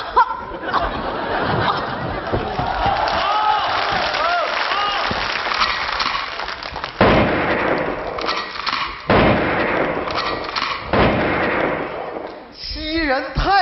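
Staged gunshots in a Chinese comedy sketch about an old marksman. Several sharp bangs break out between bursts of audience laughter and applause, with actors talking throughout.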